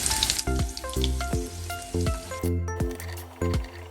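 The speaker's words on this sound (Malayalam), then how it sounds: "അടുത്തത് നമുക്കൊന്നുകൂടെ വറുക്കാനിടാം." Small-cut chicken popcorn fries in hot oil over a low flame, giving a constant close sizzle broken by a series of sharp metallic clinks as a utensil stirs the pan.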